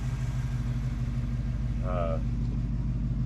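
The original engine of a 1974 AMC Javelin idles smoothly and steadily with a low even hum, and a brief high tone sounds midway.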